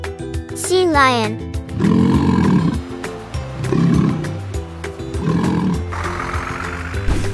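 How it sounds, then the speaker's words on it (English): A sea lion gives a few loud, hoarse barking roars in a row, close and alone, after a brief rising high tone at the start. "Sea lion."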